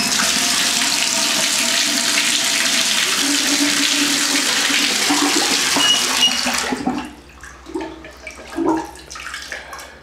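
Water rushes steadily from a shower or spigot into a bathtub and down its drain for about seven seconds, then stops abruptly, leaving only faint gurgles and drips at close range.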